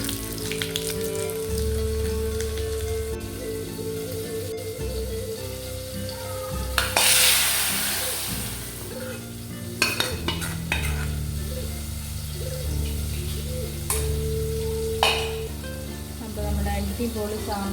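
Fenugreek seeds and curry leaves sizzle in hot oil for a Kannur-style sambar tempering: a close, steady frying hiss that flares into a loud crackling burst as leaves hit the oil, with soft background music underneath.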